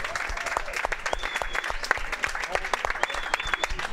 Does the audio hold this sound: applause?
yes